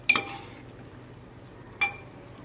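Paneer sabzi is mixed in a pan with a metal spoon, giving two short, bright scraping clinks about two seconds apart over a faint, quiet background.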